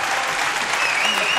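Applause from a studio audience on a French television show, dense and steady clapping at close range, filling the whole short moment without a break.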